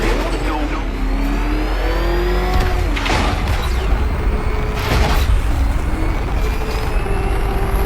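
Batmobile engine revving hard with afterburner boost in Batman Arkham Knight, a loud sustained roar with rising whine and surging bursts, game dialogue faintly beneath.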